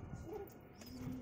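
Giribaz pigeons coo softly in a low, rolling murmur that rises and falls across the short moment, close by with no voices over them.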